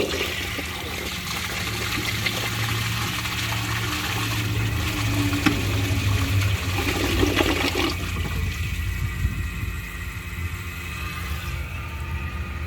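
A 1981 Eljer Emblem toilet flushes with a steady, loud rushing surge of water through the bowl for several seconds, then settles into a quieter draining and refill hiss.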